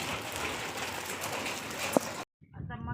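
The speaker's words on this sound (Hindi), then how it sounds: "देखो कैसे कैसे ओले गिर रहे हैं यहाँ पे" Hailstones fall outdoors in a hill village in a dense, steady pelting hiss that is close and loud. It cuts off abruptly, and then a voice is briefly heard.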